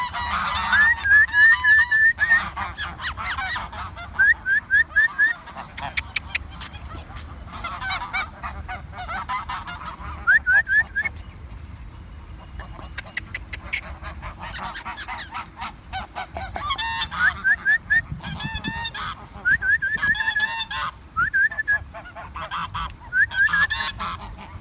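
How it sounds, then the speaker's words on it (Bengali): Native domestic ducks call out in loud, repeated honking bursts, several birds overlapping in uneven clusters throughout, close by against a low outdoor background. "দেশি হাঁস।"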